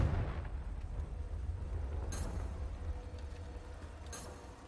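Confringo spell blast in Hogwarts Legacy, a deep rumbling explosion opening the moment and slowly rolling away, with a couple of sharp crackling bursts later on.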